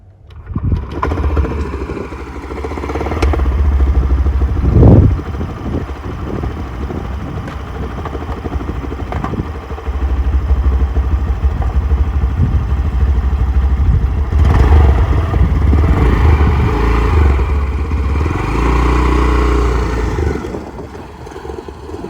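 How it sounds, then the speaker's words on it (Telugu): A scooter with a tin bottle fitted over its silencer starts and revs, its engine rumbling and rattling loudly, rising and falling through several surges, with a metallic buzz from the bottle. "ఇప్పుడైతే దానికైతే టిన్ను బాటిల్ పెట్టాను. ఇప్పుడైతే నేను స్కూటీని చాలు చేస్తాను. సౌండ్ ఎలా వస్తుందో చూద్దాం."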